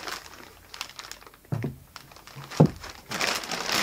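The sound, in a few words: plastic bag crinkling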